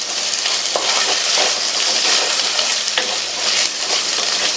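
Chopped tomato is sautéed in a hot pan: continuous loud sizzling and frying, with a spoon scraping and stirring at intervals, and no talking.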